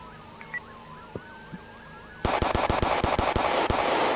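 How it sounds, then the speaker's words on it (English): Rapid bursts of gunfire ring out close and loud in a roleplay video game, a quick string of cracking shots following a faint rising and falling siren wail and a few scattered knocks. "Oh, shots fired. Shots fired."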